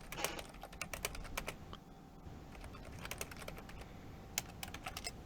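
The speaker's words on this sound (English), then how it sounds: "Typing away there." Fingers tap quickly on a computer keyboard close by, irregular bursts of crisp clicks with short pauses between runs of keystrokes; no voices.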